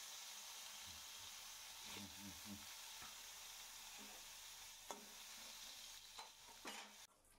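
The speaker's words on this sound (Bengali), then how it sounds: "আর যে কটা বেগুন ভাজা আছে করে নেব।" Eggplant slices fry in a pan on a home kitchen stove with a steady, quiet sizzle. Occasional stirring knocks and scrapes come through near the end.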